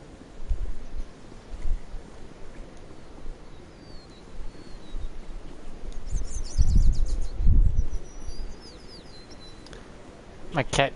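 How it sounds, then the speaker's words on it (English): Birds chirp and tweet in the Mass Effect video game: a few short, high calls over low rumbling ambience and rustling, with light wind in the background. "My cat just got intrigued by all the bird noises."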